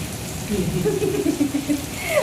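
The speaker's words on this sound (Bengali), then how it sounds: "বৃষ্টি শুরু হয়ে গেল" Steady rain hisses throughout, with a faint murmuring voice in the background.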